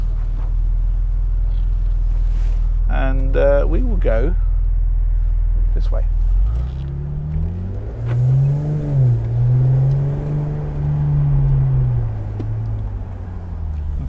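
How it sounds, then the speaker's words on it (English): Mercedes SL400 in Sport Plus mode with its exhaust opened up: a deep engine drone that swells and revs in rising and falling sweeps, loud and close, with someone speaking briefly before it. "You might hear the exhaust open up then."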